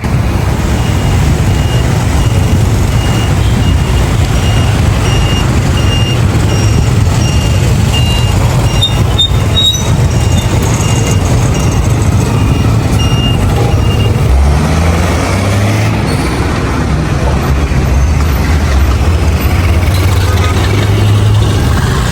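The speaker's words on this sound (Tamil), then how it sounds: "பாருங்கள் இதுதான் காலி பஸ் ஸ்டாண்டு காலி டவுன்" At a busy bus station in Galle town, Sri Lanka, heavy bus and truck engines idle and rumble loudly and continuously, with reversing beeps, hissing air brakes and distant voices mixed in.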